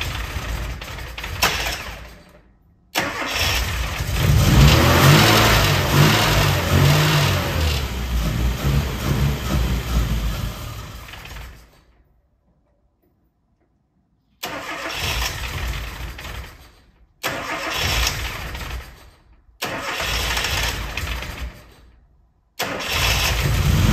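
A Classic Mini engine with its choke out is started repeatedly. It cranks, catches and revs roughly in loud bursts, then cuts out, with silent gaps between the short tries.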